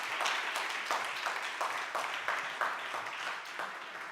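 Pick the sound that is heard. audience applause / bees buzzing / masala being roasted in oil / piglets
audience applause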